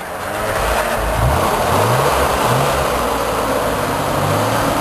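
Engine of a 1963 Spider convertible at a concours car show, a steady loud mid-pitched rumble with rising and falling revs throughout, outdoors with crowd noise.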